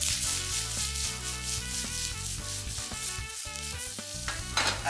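Sliced onions and green chili sauté in a pan for crispy corn, a steady close sizzle broken by repeated scraping stirs and a brief louder hiss near the end, no voices.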